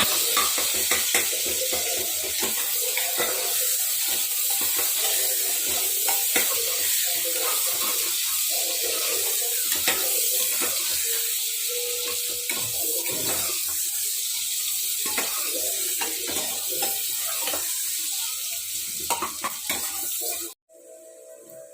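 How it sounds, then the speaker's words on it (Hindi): Onions sizzle loudly in hot oil for chole, a dense continuous hiss with crackling and stirring throughout, then an abrupt cut near the end. "तेल में प्याज जा चुका है।"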